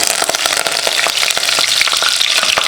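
Fenugreek seeds and curry leaves crackle and pop in hot sesame oil while a fish curry is started, a loud, dense sizzle full of rapid spits and crackles throughout.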